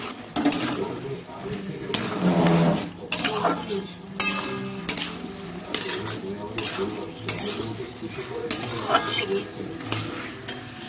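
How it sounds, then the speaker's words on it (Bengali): Ginger-garlic paste and chili powder frying in a pan are stirred with repeated scraping strokes and metallic clinks over a steady sizzle, in an irregular rhythm, with no talk. "একটু ভালো করে কষিয়ে নিই, তারপরে চিংড়ি মাছটা দিয়ে দেবো।"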